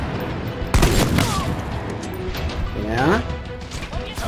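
A grenade detonates with a sudden sharp crash in the shooter Army of Two: The Devil's Cartel, followed by rumbling combat noise, with people talking over the game.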